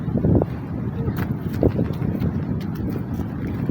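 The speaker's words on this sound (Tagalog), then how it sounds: "Sobrang lakas na naman po ng hangin dito." Strong wind during a storm on the coast buffets the microphone in a steady low rumble, with faint bursts of other sounds mixed in.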